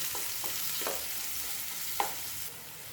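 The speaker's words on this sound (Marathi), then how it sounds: "यामध्ये आता कांदा घालायचा आहे परतून घ्यायचा आहे" Onion sautéed in a pan gives a soft, quiet sizzle with a few scraping stirs of a spoon, close and gentle, with no voices.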